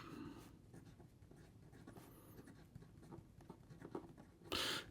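A Visconti Viscontina fountain pen with a 14 karat gold fine nib scratches softly across paper, a faint steady scrawl with small strokes and pauses, heard close and alone.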